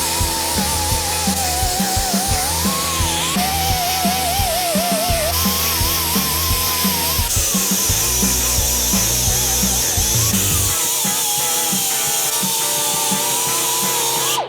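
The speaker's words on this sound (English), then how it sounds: "So let's get to grinding." A power grinder works on a Harley-Davidson Sportster frame to prepare it for welding, a loud continuous whining grind with shifting pitch, pulsing and changing pressure throughout.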